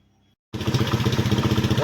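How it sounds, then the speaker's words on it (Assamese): A TVS motorcycle engine, on a bike repaired for a current supply fault with a new CDI unit, fires up after a short silence and settles into a close, loud, rhythmic idle with regular pulsing beats. "তাৰপিছত ফাইনেলি আমাৰ বাইক ষ্টাৰ্ট হৈ গ'ল"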